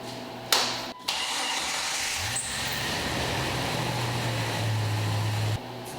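Jeep engine cranking with a quick starter whir, catching and settling into a steady idle that hums on for several seconds before shutting off abruptly.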